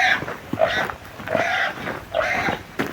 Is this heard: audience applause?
no